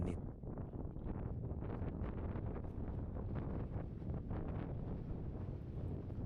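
Cold wind buffets the microphone at Pasar Bubrah on Mount Merapi before sunrise, a steady low roar with gusty rumble that stays constant and close throughout.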